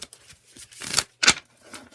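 Tarot cards shuffled during a reading make soft riffling and papery swishes, with two louder bursts in the middle and fainter ruffles around them; no one speaks.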